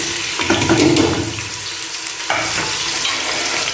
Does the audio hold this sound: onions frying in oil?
yes